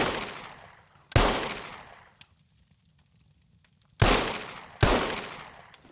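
Gunfire from a revolver in the survival game SCUM: four loud, sharp single shots in an irregular rhythm, each followed by a long decaying echo that fades into near silence between shots.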